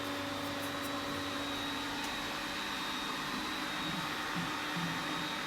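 A pool pump runs steadily during a filter backwash, a faint, even motor hum with a constant whine and no talking.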